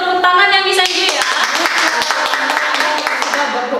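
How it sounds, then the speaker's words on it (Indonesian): Children and an audience at a kindergarten chapel service in Bali clap for Miss Anju, a scattered, sharp run of handclaps over a lingering voice at the start, close and fairly loud. "Kita kasih tepuk tangan ya Miss Anju ya."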